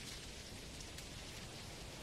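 Rain in the video game ROM, a faint, steady wash of broadband hiss with no breaks, falling evenly throughout with no voices over it.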